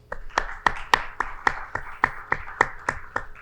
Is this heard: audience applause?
yes